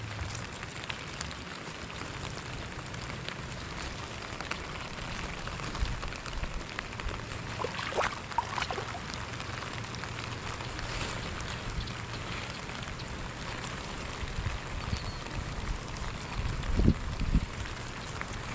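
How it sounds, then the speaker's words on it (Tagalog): Steady rain hisses and patters across the whole stretch, a dense, even wash of sound with a few louder drips near the end. "lumakas na lalo ang ulan"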